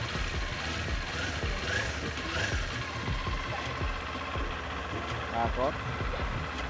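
Kawasaki Z400 motorcycle with its stock exhaust idling nearby in a dealership, a low steady engine rumble running beneath someone talking throughout.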